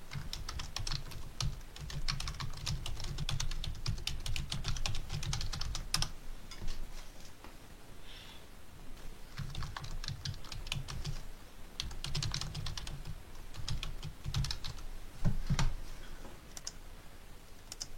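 Rapid, steady clicking of typing on a computer keyboard, close and fairly quiet, running in bursts with brief pauses throughout, with no talking.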